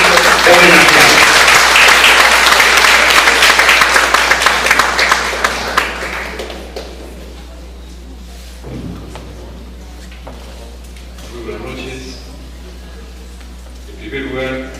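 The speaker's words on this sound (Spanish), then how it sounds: "Fuerte los aplausos para nuestro homenajeado" A large audience applauds loudly for an honored professor at a university ceremony, with dense clapping that fades away after about six seconds, followed by quiet room sounds and a few soft bumps.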